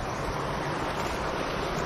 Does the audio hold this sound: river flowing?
yes